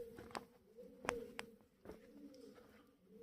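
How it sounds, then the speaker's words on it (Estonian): Pigeons coo inside a cave, with several short calls and soft murmurs echoing in the enclosed space, fairly faint and with gaps of quiet between them. "Tuvid siin teevad hääli."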